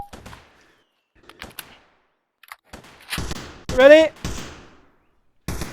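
Gunfire during a combat training drill sounds as a few sharp bursts spaced apart, with a voice shouting briefly among the shots and quiet gaps between them.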